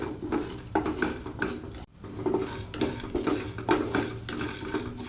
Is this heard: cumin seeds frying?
yes